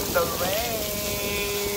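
Artificial rain falling at an island resort attraction in Dubai, a steady hiss of drops under brief tonal sounds, like a whistle or voice, near the start.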